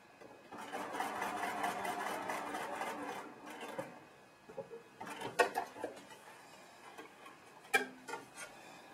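A sewing machine runs in a fast, steady stitching burst, then stops and starts with a few scattered clicks and taps, fairly quiet.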